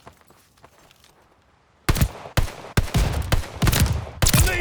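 Owen submachine gun fired in Call of Duty: Vanguard, a quiet stretch followed by several loud, sharp bursts of automatic fire in quick succession, close and punchy, with brief gaps between bursts.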